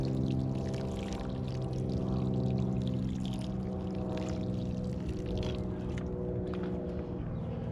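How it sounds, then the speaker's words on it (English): Water is poured generously from a container onto light potting soil in a microgreen growing tray, a soft continuous trickling and gurgling pour that stays quiet and close throughout, with no talking. "Now I'm going to water it."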